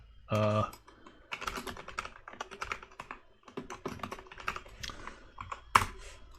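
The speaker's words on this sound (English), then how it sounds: "I'm getting nervous just based on how I'm typing." Fingers type on a computer keyboard in quick irregular bursts of clicking keystrokes, close and fairly clear, with a short voice at the start and a sharper key strike near the end.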